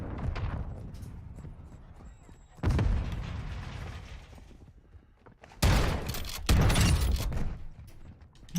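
Gunfire and rocket explosions in the video game Modern Warfare 2 come as several sharp, loud bursts separated by quieter gaps, with the impacts close and ringing out.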